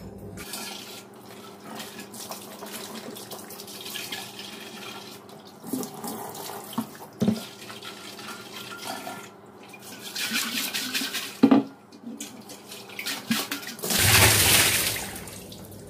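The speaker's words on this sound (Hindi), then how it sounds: "सबसे पहले हम इसको नल के पानी में धो लेते हैं" A clay water pot (matka) is rinsed under a running kitchen tap, a steady stream of water with splashes and swishes that grow louder toward the end; no one speaks.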